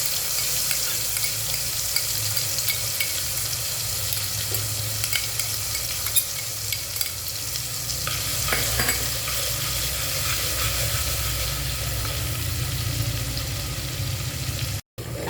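Garlic and ginger paste sizzling steadily in hot oil while being stirred, a continuous close frying hiss with occasional scraping through the whole stretch, cooking for a Maharashtrian shipi amti curry.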